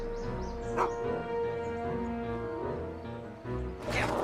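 Dog barking in the Back to the Future video game, a few yips and whimpering barks over a sustained tonal music-like bed, close and moderately loud, no speech.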